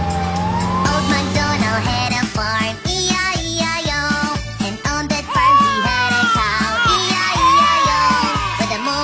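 A police car siren in a children's nursery-rhyme song, its wailing tone sounding over a steady, bouncy musical backing that carries on loudly throughout.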